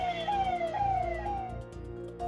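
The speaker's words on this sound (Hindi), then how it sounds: "जाम लगा हुआ था और एम्बुलेंस भी सायरन पर सायरन बजाए जा रहे थे।" An ambulance siren wails in an Indian traffic jam, its pitch sweeping downward in repeated rising and falling cycles over low engine rumble, fairly close and clear.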